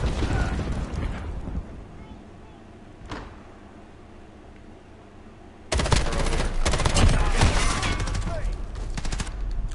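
Gunfire in the video game Modern Warfare: bursts of automatic fire, a single crack near the start, then a dense, loud run of rapid shots in the second half, with some talking underneath.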